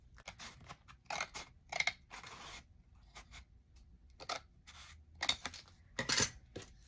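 Scissors snip through the side of a cardboard tissue box in a series of short, crisp cuts with quiet gaps between them, close to the listener and not loud.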